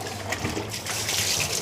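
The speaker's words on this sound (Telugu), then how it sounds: "నీళ్ళు పోస్తుంది ఫ్రెండ్స్." Warm water is poured over a dog during a bath, a brief steady trickling and splashing of liquid heard up close.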